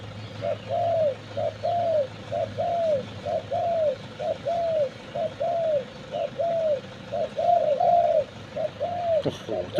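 A decoy dove coos in a steady, evenly spaced series of about fifteen soft rounded calls, close and clear over faint background hum, with no talking.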